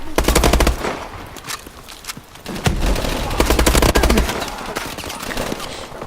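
Rapid automatic weapon fire in Call of Duty: Advanced Warfare, loud close bursts of quick repeated shots with brief pauses between volleys and faint voices underneath.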